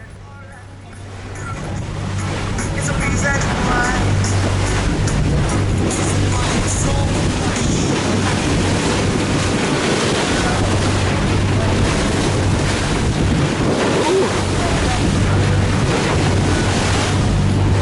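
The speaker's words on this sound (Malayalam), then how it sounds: "ഇതിലെ തിരയും ശക്തമായ കാറ്റും സ്പീഡും കാരണം ബോട്ട് നന്നായി ആടി വിലയുന്നുണ്ട്" Constant roar of strong wind and crashing waves against a fast-moving boat rocking hard on rough ocean off the Na Pali Coast, Kauai, Hawaii, with heavy wind buffeting the microphone throughout.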